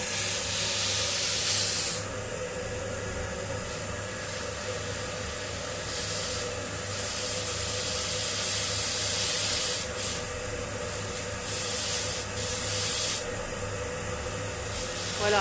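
A vacuum cleaner drawing air out of a vacuum-seal storage bag: a steady, close hissing rush of suction with a constant motor hum, running continuously with slight rubbing and crinkling shifts throughout.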